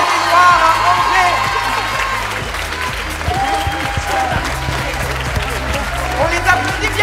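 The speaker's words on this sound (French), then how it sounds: "On les applaudit bien fort" An audience applauds a performing group at a stage competition evening, dense sustained clapping with scattered cheers filling the room, loud and close, with a presenter speaking over it.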